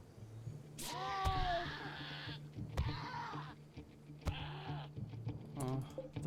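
Goat in the RimWorld video game bleating while hunted by a cougar: a wavering, nasal bleat near the start, followed by further shorter cries and scattered game effects over a steady background hum.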